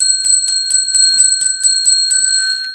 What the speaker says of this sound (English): Okay, 10 rings of the bell.